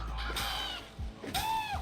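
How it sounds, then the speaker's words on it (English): Small birds call in the game Lost Skies: two sharp, chirping calls, one early and one near the end, set against a quiet background and heard close with no speech. "If you see these groups of small birds,"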